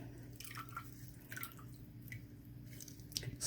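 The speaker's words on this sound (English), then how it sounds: "Squish out as much water as you can before putting them in." Soaked loofah sponges are squeezed out during soap making, giving soft, faint wet squishes and drips, close up and without talk.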